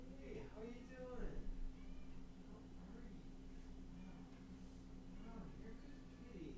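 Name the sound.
cat meowing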